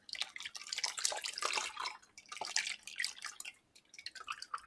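Soursop juice drips and patters through a strainer into a container, a busy run of close liquid drops and trickles with a brief pause near the end, no talking.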